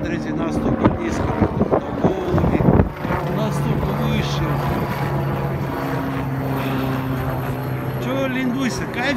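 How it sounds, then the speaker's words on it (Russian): A low-flying helicopter drones steadily overhead beneath close conversation, a continuous rumble that holds through the whole stretch. "даже вертолет, смотрите, настолько низко"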